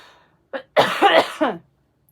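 A short cough burst up close: a small catch, then several loud, harsh coughs in quick succession before it falls quiet.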